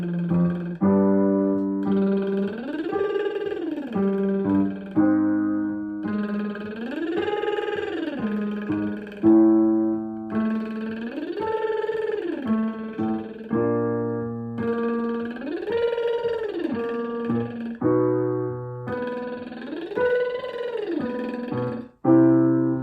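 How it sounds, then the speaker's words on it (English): A singer does a lip bubble warm-up with octave slides, a buzzing voiced tone gliding smoothly up and back down in about five repeated sweeps, close and unaccompanied. "We are going to use lip bubbles and we're going to do octave slides."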